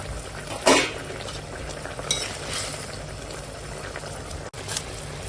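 Fried bhola fish and fried okra go into a simmering curry, giving a steady low sizzle and bubbling, a sharp splash as the pieces land, then scattered clinks of a utensil against the pot.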